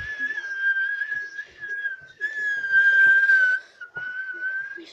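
A person whistles a wavering melody alone while playing the FIFA video game, steady and fairly loud, with brief breaks between phrases.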